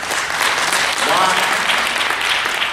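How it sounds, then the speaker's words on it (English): A crowd claps in dense, steady applause throughout, with a voice briefly audible beneath the clapping. "That deserves a round of applause."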